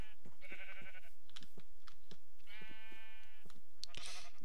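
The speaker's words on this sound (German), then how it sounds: "Ah, hier hat es ganz viele Schafe." Sheep in the video game Minecraft with the Pixelmon modpack, giving two clear bleats and then a third brief one, over rapid keyboard typing and mouse clicks.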